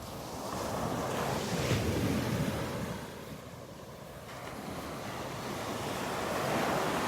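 Surf breaking and washing onto the beach at Delnor-Wiggins on a morning beach walk, a continuous broad roar that swells and eases, with wind buffeting the microphone and no talking.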